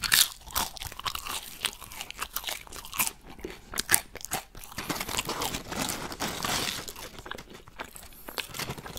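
Close, crisp crunching and wet chewing come from someone eating Flemish fries and a frikandel speciaal minced meat sausage, with irregular bites and soft crinkling between them.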